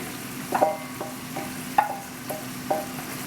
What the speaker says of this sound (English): So now we're going to be adding our nice vegetables